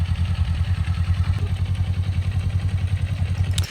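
A motorcycle engine idles and chugs steadily close by while a learner rider slowly lets out the clutch, giving a low, even, pulsing thrum with faint clatter over it and no rise in revs.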